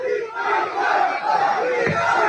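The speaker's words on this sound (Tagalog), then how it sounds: "Kita nyo sigawan ng tao?" A dense crowd at a political rally on EDSA roars and shouts together, a loud sustained wall of voices with rising cheers and a brief dip before surging again.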